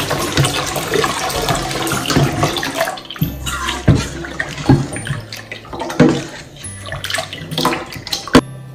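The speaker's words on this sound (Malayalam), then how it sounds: "ഇനി നമുക്കിതിൻ്റെ അകത്ത് വെള്ളം ഒഴിച്ചു കൊടുക്കാം." Water poured into a semolina batter for rava dosa makes a close, continuous splashing pour with bursts of gurgling and sloshing that swell and ease throughout.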